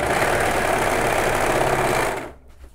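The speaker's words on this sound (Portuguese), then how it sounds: "Vou começar aqui no overlock." An overlock sewing machine stitches fabric in a loud, continuous, buzzing whir heard close up, which then stops abruptly into near silence.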